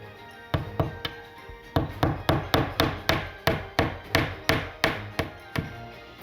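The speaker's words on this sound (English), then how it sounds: "Just a few taps and it went all the way through." About fifteen sharp hammer taps driving a nail through a wall, steady rhythm, close and crisp, each strike ringing briefly before the next.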